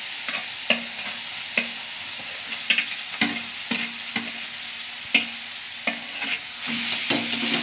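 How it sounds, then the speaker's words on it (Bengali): Grated carrot fried in ghee with bay leaf and spices, stirred steadily with a ladle: a constant close sizzle broken by regular scraping knocks against the pan. "হালকা ভেজে নিতে হবে ঘিয়ের সঙ্গে, আর তেজপাতা মশলার সঙ্গে ভালো করে গাজরটাকে একটু ভেজে নিতে হবে।"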